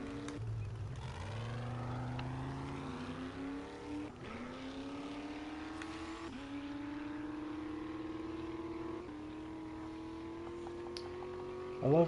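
A truck's engine in the game 7 Days to Die revs upward repeatedly, pitch climbing then dropping as it shifts gears several times during a three-point turn, fairly quiet and alone.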